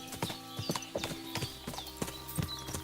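A horse's hooves clip-clop in a steady walking rhythm in the video game Kingdom Come Deliverance 2, with close, clear hoof strikes repeating evenly under a faint background tone.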